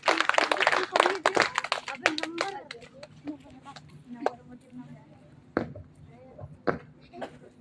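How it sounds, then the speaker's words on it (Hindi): An audience at a speech competition claps to welcome a speaker: a burst of loud clapping at the start that quickly thins into scattered, sporadic claps, with faint background voices. "जोरदार ताली से स्वागत करिए।"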